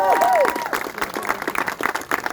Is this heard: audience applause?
yes